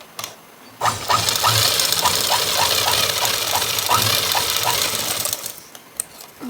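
A sewing machine runs steadily while double-stitching a blouse, its needle ticking in an even rapid rhythm over a low motor hum for several seconds before stopping.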